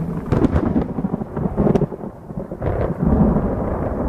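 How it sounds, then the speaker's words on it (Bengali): Low rumbling thunder rolls continuously over steady rain, with deep booms swelling and fading across a few seconds. "সারা আকাশ কালো করে শুরু হলো ঝড় আর বৃষ্টি"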